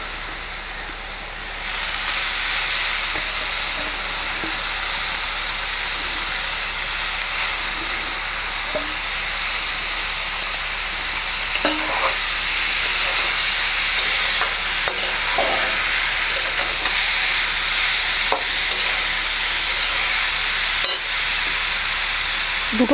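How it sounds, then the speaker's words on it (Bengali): Grated papaya frying in a pan for papaya pulao, a continuous hissing sizzle with scattered stirring scrapes and clicks running close and steady for the whole stretch, no talking. "এবার সেই পেঁপেটা এর মধ্যে দিয়ে ভাজা হবে।"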